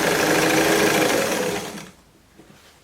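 A sewing machine stitches stretchy gymnastics fabric with a fast, close, steady whirring run that stops after about two seconds, followed by faint handling sounds.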